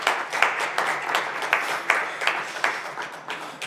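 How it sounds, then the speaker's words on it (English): Applause for three winning DTM drivers at a press conference at Oschersleben, a modest room of people clapping in an uneven, pulsing patter, moderately close and with no talk. "A big round of applause here for our 3 winning drivers."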